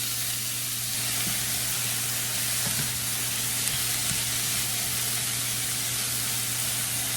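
Onions fry in a pan for a French onion roast, giving a dense, steady sizzle and hiss with faint clicks of stirring, close and continuous under a low hum, with no talking.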